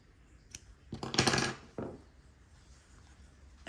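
Scissors snip through yarn from a ball with a short crunchy cut close to the mic, a softer follow-up snip, and small handling clicks around them in a quiet room.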